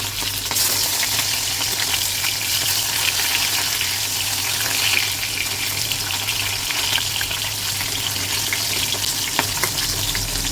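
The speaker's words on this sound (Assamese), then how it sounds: "ধুনীয়াকৈ ইলুটি চিলুটি কৰি ভালদৰে ফ্ৰাই কৰি ল'লোঁ।" Fish fries in hot oil in a pan with a continuous close sizzle and occasional stirring scrapes, and no voices.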